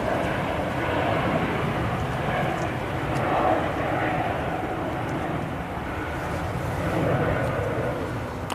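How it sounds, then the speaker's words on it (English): A Lufthansa Airbus A320neo airliner bound for Munich makes a steady, moderately distant engine rumble at Manchester Airport, continuous and fairly even throughout. "Lufthansa A320 Neo on the way to Munich."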